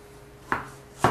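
A knife chopping onions on a cutting board, two crisp, separate cuts about half a second apart, close and clear in an otherwise quiet kitchen.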